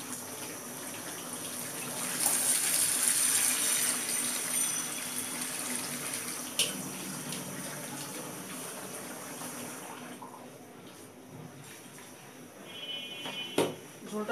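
Water being poured into a sweet pumpkin curry to make gravy, a steady splashing flow near the mic that starts around two seconds in and runs for several seconds before thinning out, with some kitchen clatter.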